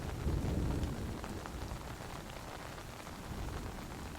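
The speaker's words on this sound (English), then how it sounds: "Rain pours down onto the generous green bushy branches of the trees, the ground puddled over by the heavy downpour" Heavy rain pours steadily onto the leafy branches of forest trees at night, a dense constant hiss with a low rumbling undertone, close and without voices.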